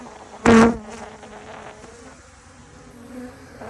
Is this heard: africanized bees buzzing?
yes